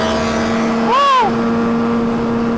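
A Kawasaki ZX10R sport bike sends out a quick high-pitched rev that rises and falls over a steady engine drone, heard close for a brief moment.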